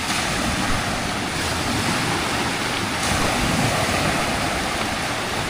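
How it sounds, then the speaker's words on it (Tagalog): Ocean waves breaking on a beach: continuous loud surf roar with wind buffeting the microphone, no voices. "Ganda ng alon."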